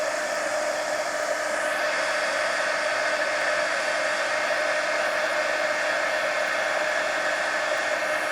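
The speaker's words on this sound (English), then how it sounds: "Let's dry this. Dry these babies. Heat gun." A heat gun blows steadily and loudly for the whole stretch, drying small mixed media collage art cards, a constant broadband hiss with no pauses or voices.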